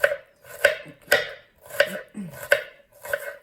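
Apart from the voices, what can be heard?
knife chopping onion into little squares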